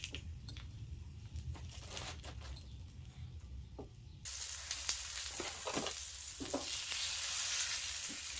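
French toast frying in butter on a griddle, a steady close sizzle throughout that grows brighter and louder halfway through, with scattered scraping and spatula taps.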